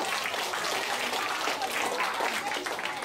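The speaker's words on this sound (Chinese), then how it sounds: "来，掌声鼓掌吧。" Audience at a science magic show breaks into sustained applause, a dense, even wash of clapping from a crowd that continues at steady loudness without pause.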